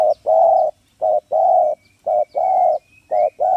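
A decoy bird calls in a repeating cooing rhythm, short and long notes alternating in a steady pattern, loud and close with faint chirps behind.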